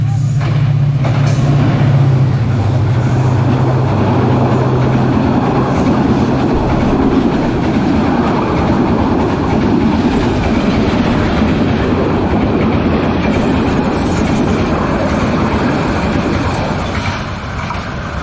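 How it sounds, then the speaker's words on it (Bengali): A passenger train bound from Rajshahi to Dhaka runs past the Shalna rail crossing, a loud, close, continuous rumble with wheel clatter and a low droning tone early on, filling the whole stretch without pause. "খুবই সুন্দর ট্রেন। এটা রাজশাহী থেকে ঢাকাগামী, রাজশাহী থেকে এখন ঢাকা যাচ্ছে।"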